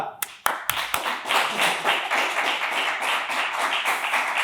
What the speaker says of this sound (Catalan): rebem amb un fortíssim aplaudiment al regidor de Cultura!